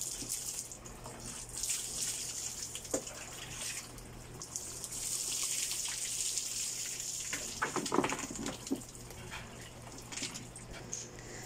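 Water runs steadily from a tap or shower while a bull terrier is bathed with cold water, a constant splashing hiss with occasional louder sloshes and knocks, close and moderately loud.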